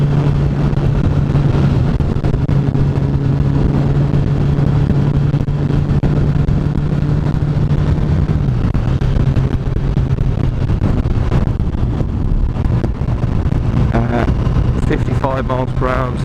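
A 2016 Honda CBR1000RR Fireblade SP sportbike engine holding about 3,500 RPM in sixth gear on the road, a steady loud drone with heavy wind rush, while a rider talks continuously over it.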